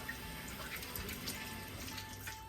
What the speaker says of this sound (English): So first I rinse out the tin.